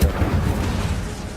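Incendio fire spell cast in Hogwarts Legacy: a deep booming whoosh of flame, loud and sustained with low rumbling bursts and no talk over it.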